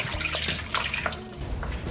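Running tap water pours steadily into a sink as sliced onion rings are rinsed, a close, continuous splashing wash with small shifts in the flow and no talking.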